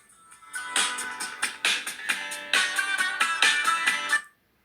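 A Jump Jam song plays as a bright, upbeat electronic track with punchy repeated beats, loud and clear for about four seconds, then stops abruptly, with no talking over it.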